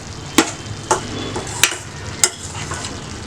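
Poriyal being mixed in a frying pan: a steady soft sizzle broken by four sharp spatula scrapes against the pan at even intervals, close and clear with no voices.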